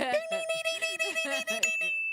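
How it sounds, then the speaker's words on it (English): A stock market closing bell sound effect rings with sustained metallic tones and a lingering high ring at the end, with voices talking over it. "There it is, the closing bell."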